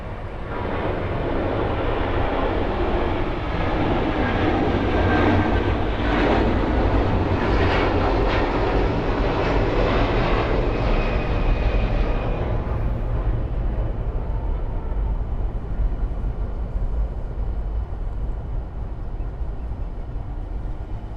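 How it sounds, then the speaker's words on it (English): A British Airways A380 on final approach to Miami's runway 9, a loud, rumbling jet engine roar that builds, holds and then fades as the airliner passes, with no talk. "BA380 on final for runway 9"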